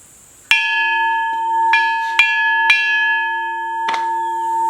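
A homemade bottle bell cut from a gas cylinder rings out in five clear, metallic strikes with long, steady sustaining tones that hang between hits, loud and close with no voices.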